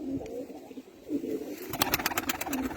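Soft, low game pigeon coos repeat close by, followed by a burst of rapid clicking or fluttering sounds.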